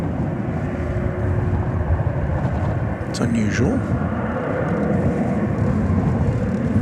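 Airbus A321 in Piedmont retro heritage livery taxiing and turning at DFW airport at night, a steady distant jet engine rumble under wind noise, with a person talking briefly over it.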